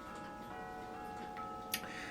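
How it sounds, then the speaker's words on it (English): A wall clock ticks steadily while another clock chimes, its sustained ringing tones hanging in the background, with one sharper click near the end. "you can hear my other wall clock is chiming"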